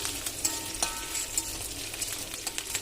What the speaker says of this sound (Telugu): ముందుగా బాయిల్ చేసుకున్న తోటకూరని ఇప్పుడు వేపుకుంటున్నాను